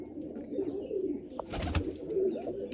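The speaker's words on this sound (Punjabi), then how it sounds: "ਆ ਬੈਠਾ ਬੋਦੀ ਵਾਲਾ ਕਬੂਤਰ" A crested (bodi wala) pigeon in a home loft gives soft, low repeated coos close by, interrupted midway by a brief burst of rustling or wing flutter.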